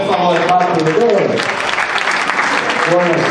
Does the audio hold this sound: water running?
no